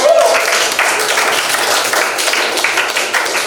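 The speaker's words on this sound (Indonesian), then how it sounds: "Oke, kita kasih tepuk tangan." A group of people claps hands together at a school learning session, a brief burst of dense, close applause that stays fairly even before trailing.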